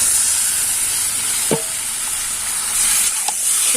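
Chicken meat tips into a hot pan of lightly fried onions, giving a steady close sizzle with a couple of brief clatter accents, no talking.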